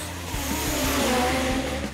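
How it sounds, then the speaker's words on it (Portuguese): A Volkswagen Gol G4 drag racing car accelerates hard at a drag strip, its engine note climbing steadily and loudly for about two seconds before easing off, with no talking. "Tá aí o gol geração 4 de Alexandre Silva, o Xande da Espaço Motor,"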